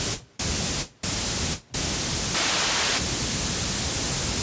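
White noise reshaped with added brown and blue noise: a loud, steady hiss, briefly cut off three times early on, then running on with a slight brightening of its tone partway through.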